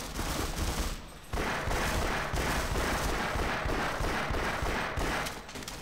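Continuous heavy gunfire in Half-Life, a dense, loud barrage of rapid shots with a brief lull before the shooting resumes and carries on steadily, then tapers at the end.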